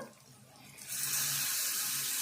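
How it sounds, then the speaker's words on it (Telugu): A small tea glass of water splashes into a pot of cooking ridge gourd, cowpea and tomato in a steady pouring stream, starting after a brief quiet moment and continuing up close. "వాటర్ వేసుకుందాము చిన్న టీ గ్లాసుడు"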